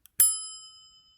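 A single bright notification ding sound effect rings out after a faint tick, a clean bell tone that decays slowly over about a second.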